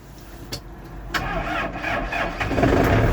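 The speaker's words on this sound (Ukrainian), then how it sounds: "Клац, свічечка горить, потухла, заводимо." A Yanmar 720 tractor engine of 72 horsepower cranks and starts, building over a few seconds into a loud, steady, close diesel rumble with no voices.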